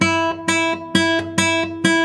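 A single guitar string plucked harshly, the finger pulling it upward before release, rings out in a steady run of bright, sharp attacks about every half second, close and loud with no talking.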